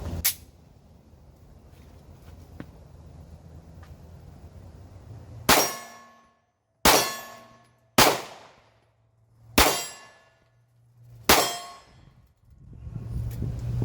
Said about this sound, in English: It's a Sig Sauer P365 9mm compact, really nice little gun, and it's one of my favorites to shoot.